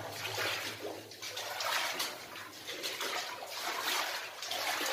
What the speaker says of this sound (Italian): là è lo scorrimento dell'acqua sulla sinistra